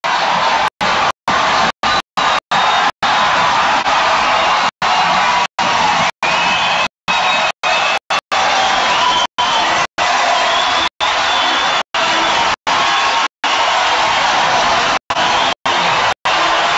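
A hockey arena crowd yells and cheers loudly through a fight on the ice, a sustained roar of voices broken by repeated short dropouts.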